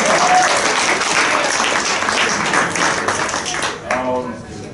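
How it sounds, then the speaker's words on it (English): Students in a Caltech CS155 lecture hall give a student a round of applause. Steady clapping fills the room and then fades near the end as a voice comes back. "Let's give Jim a round of applause"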